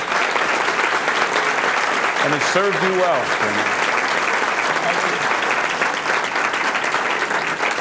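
Audience applause at a Columbus Metropolitan Club leadership event, a steady, full round of clapping filling the room throughout, with someone speaking briefly over it partway through.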